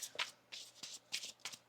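A deck of tarot cards being shuffled by hand close up, several quick riffling bursts in an uneven rhythm, crisp and fairly quiet, with no talking.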